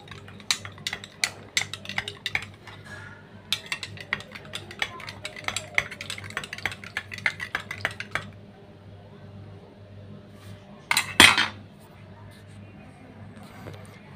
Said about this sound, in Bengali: তারপর এটা ধরেন সুন্দরভাবে আমি চামচ দিয়ে নেড়ে নিচ্ছি